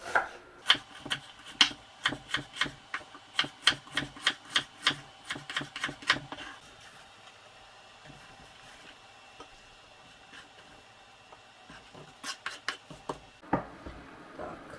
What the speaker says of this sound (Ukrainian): Цибулю буду нарізати пір'ячком, можна нарізати під кільцями і не дуже тонко